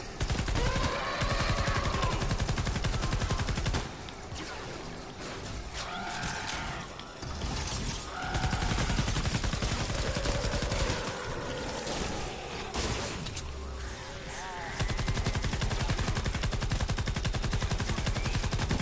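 Loud, dense gunfire crackles almost without pause, bursts of rapid shots layered with crashing impacts and clanking mechanisms, briefly thinning out before surging again.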